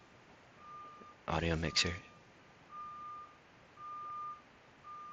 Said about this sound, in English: That garbage truck backing up.